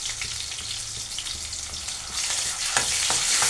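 Ginger garlic paste frying in oil in a pan for an egg and tomato curry, a steady close sizzle with stirring that grows slightly louder toward the end.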